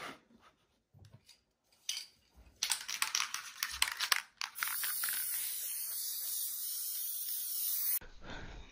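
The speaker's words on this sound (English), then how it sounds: "So for the spray adhesive, I'm going to use this Craft Bond." Craft Bond spray adhesive hisses from an aerosol can in a steady, close burst lasting a few seconds, preceded by scattered clicks and taps as the can is handled, in a quiet room.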